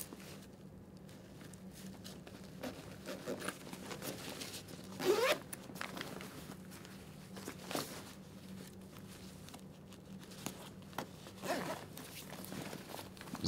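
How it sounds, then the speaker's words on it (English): Zips on the airbag insert of an Alpinestars Missile Ignition leather motorcycle race suit are drawn closed, with short, close rasping pulls and quiet rustling handling of the suit between them. "Zip both sides of the airbag in."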